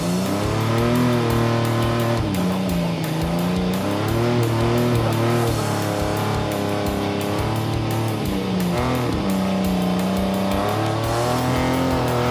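Engine of a rescued old car being revved hard under throttle, a loud sustained roar that climbs and falls in repeated pulls across the whole stretch, with no talking.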